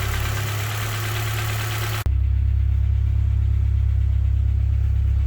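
A K-swapped Honda Civic engine idling while it warms up, with a faint ticking: a steady, low, close mechanical drone that shifts abruptly to a deeper, steadier hum partway through, no talking.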